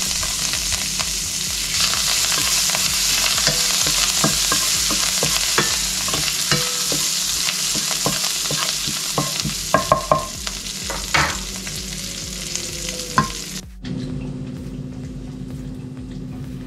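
Fish fillet frying in a pan with butter and chopped coriander hisses in a loud, continuous sizzle, punctuated by sharp taps and scrapes as it is tossed, then cuts abruptly to a quieter background near the end.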